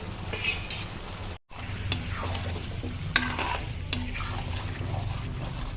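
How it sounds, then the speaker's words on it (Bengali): Chicken sautés with spices in a pan over a medium flame for palak chicken, a low steady sizzle under intermittent spoon scrapes and clinks against the pan, close and moderately loud, with a brief dropout early on. "ফ্লেম মিডিয়ামে রেখে মশলা সমেত চিকেন একটু সময় নিয়ে কষে নিতে হবে।"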